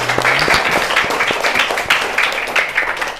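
A classroom of students claps together after a presentation, dense and fairly close applause with many overlapping hand claps sustained throughout, a voice briefly audible near the start.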